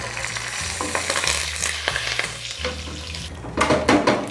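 Turmeric and curry leaves are stirred into potatoes frying in a pan, a steady close sizzle broken by spoon scrapes and taps that grow louder near the end.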